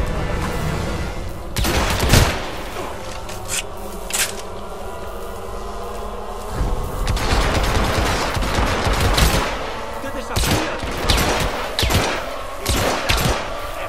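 Gunfire in the video game Hitman Absolution, bursts of automatic fire and sharp single shots in irregular clusters, loud and close, mixed with thuds and a low rumbling backdrop.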